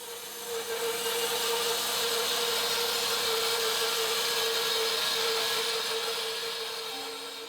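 Exhibition grade walnut for a best London gun stock being cut by a power saw, a steady, loud, continuous whine and rasp with a strong tonal hum, holding evenly for several seconds before easing at the end.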